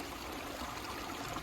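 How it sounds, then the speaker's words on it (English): Fast little stream of running water flowing between two water holes, a steady, soft, even rush and trickle throughout with no voices. "Then a fast little stream between"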